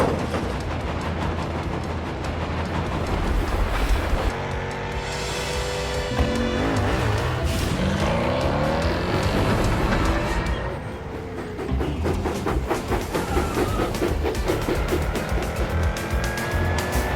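A racing car speeds along in an animated Thomas & Friends race against a big tank engine, engine roar and tire squeals running loud and continuous under a bed of music and effects, with pitch sweeps as it surges past.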